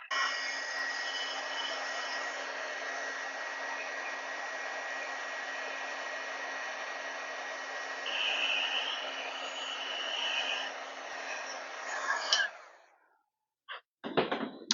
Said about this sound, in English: Now I'm going to use my heat gun to dry this.